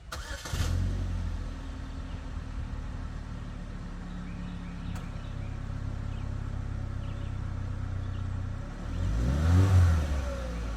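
A Chevy Malibu's 2.4-liter Ecotec four-cylinder engine starts and settles into a steady, fairly quiet idle, with a brief rev near the end; no voices.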